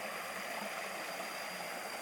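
The Chet Khot waterfall in a Saraburi national park gives a steady, even rush of falling and flowing water, continuous and moderately close, with no voices over it.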